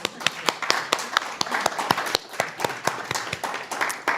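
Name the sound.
audience clapping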